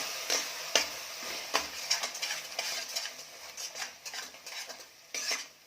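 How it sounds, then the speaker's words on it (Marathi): A spoon scrapes and clinks against a pot as ground coconut paste is stirred into Kolhapuri mutton. The clatter is steady and rhythmic over a soft sizzle. "खोबऱ्याची पेस्ट करून घेतलेली म्हणजे खोबरं वाटून घेतलेलं आहे ते घालायचं आहे आणि छान मिक्स करून घ्यायचं"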